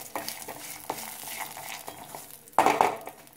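Chillies frying in hot oil in a pan for mushroom salna, with a soft sizzle under scattered stirring scrapes and a louder clatter near the end, close by.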